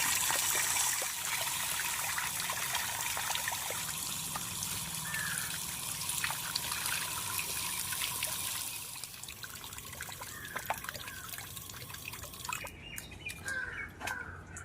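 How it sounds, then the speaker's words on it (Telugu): Fish pieces being rinsed in water outdoors for a korameenu fish fry make a soft, continuous trickle and splash, with faint birdsong in the background. "ఈ ముక్కలే రెండు మూడు సార్లు శుభ్రంగా కడుక్కోవాలి"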